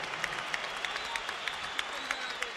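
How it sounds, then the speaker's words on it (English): Crowd applause in an Atlantic City casino arena after a 12-round heavyweight boxing bout, Holyfield vs Foreman 1991; a broad roar of cheering and clapping with scattered sharp claps, a voice speaking faintly underneath. "let's have a round of applause for these two heavyweights."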